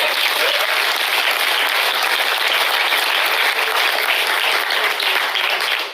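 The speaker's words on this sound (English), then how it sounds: "First, let's give Lila a massive round of applause." An audience claps loudly and continuously for a young climate activist at a public forum, a dense, steady round of applause without a break until it fades at the very end.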